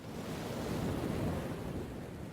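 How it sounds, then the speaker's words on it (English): Ocean waves from the video game 999 wash in a steady, dense roar of surf, alone with no voices, holding an even loudness throughout. "Sound of waves."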